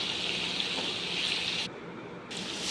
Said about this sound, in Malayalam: ഇതിലേക്ക് നമുക്ക് കുറച്ച് വെള്ളം ഒഴിച്ചിട്ട് അടച്ച് വയ്ക്കാം